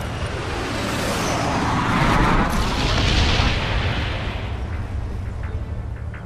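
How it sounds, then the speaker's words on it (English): A napalm strike in a first-person shooter video game detonates as a deep, sustained rumbling roar that swells to a peak midway and slowly fades, heard alone with no talk. "Friendly napalm strike on the way."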